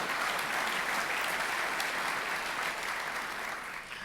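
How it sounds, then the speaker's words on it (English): A round of applause from a seated audience at an advice industry summit, a dense steady patter of many hands clapping, fairly distant, tapering off slightly at the end. "I think that deserves a round of applause."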